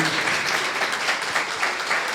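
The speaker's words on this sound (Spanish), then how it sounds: "vamos a darle un fuerte aplauso" A crowd applauds loudly and steadily, a dense wash of clapping close by.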